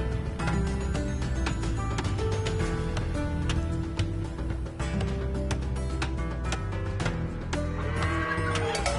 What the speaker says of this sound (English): You have just discovered some sheep at the location of the minimap ping.